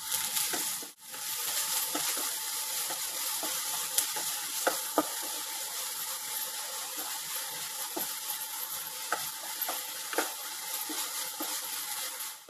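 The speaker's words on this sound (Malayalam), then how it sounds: "ഇനി ഇതിലേക്ക് അരിഞ്ഞു വെച്ച സവാളയും മൂന്നാല് പച്ചമുളകും ഇട്ട് കൊടുക്കാം അര ടീസ്പൂൺ ഉപ്പും കൂടി ഇട്ട് കൊടുത്തതിന് ശേഷം നല്ലതുപോലെ ഒന്ന് വഴറ്റി കൊടുക്കാം" Chopped onions and green chillies sauté in coconut oil in a pan for okra curry, giving a steady, close sizzle throughout with scattered stirring clicks and scrapes, no voices.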